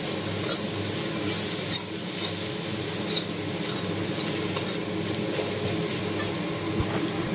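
Chopped tomatoes frying in hot oil for dum biryani, a steady loud sizzle with frequent stirring scrapes and small crackles running throughout, close and continuous with no voices.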